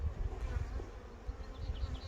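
Honey bees buzzing around an open beehive frame while a hive is split into an observation nucleus, a close, continuous low droning hum with faint higher whines of individual bees passing.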